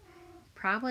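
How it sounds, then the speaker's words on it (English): A house cat meows twice in quick succession, close and fairly loud, following a brief stretch of low speech. "that was my cat in the background warning me not to"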